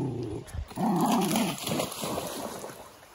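A dog on a forest walk growls and whimpers in short, rough bursts while tugging and playing with a stick, close and fairly loud, with rustling in between.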